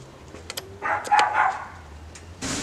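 A dog in a car trunk gives a short burst of barks, loud and close, amid a few clicks and a rustle.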